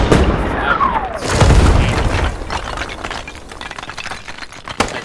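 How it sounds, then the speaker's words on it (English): Artillery shells from a hell cannon bursting in a military shooter game near an apartment complex, a heavy boom followed by crackling debris and scattered pops, loud and close. "whoever's on the hell cannon has personal beef with this exact spot on this apartment complex in the south"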